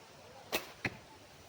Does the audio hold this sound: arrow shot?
yes